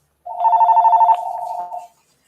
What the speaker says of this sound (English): This here is a phone call. I gotta pick it up.